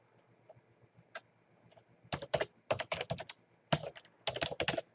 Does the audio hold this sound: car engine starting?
no